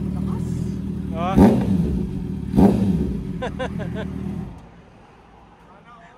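A Yamaha R6 motorcycle engine revs hard twice in sharp bursts over a steady idling rumble, close by, with a brief exclamation, then the engine cuts off.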